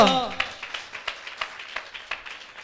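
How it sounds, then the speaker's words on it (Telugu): A crowd claps in a loose, steady rhythm of sharp bursts, following a short spoken phrase at the start. "చప్పట్లు కొట్టండి గట్టిగా"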